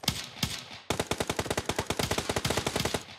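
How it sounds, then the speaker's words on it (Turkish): Automatic gunfire in the PUBG video game: two single shots, then a fast, steady burst of loud, close shots. "Silah sesi çıkınca refleks olarak sıktım."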